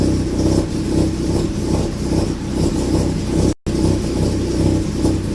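A Mazda rotary engine idles steadily as it warms up, a continuous low, even drone with no talk and one brief cut-out partway through.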